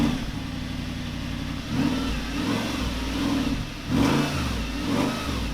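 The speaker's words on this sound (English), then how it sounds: "let's get on with the launching of the R8." An Audi R8 V8 launches hard, its engine revving up through rising, sweeping pitches with short dips between shifts, loud and close throughout.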